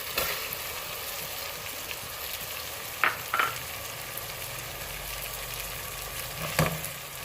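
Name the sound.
minced meat frying with tomatoes and spices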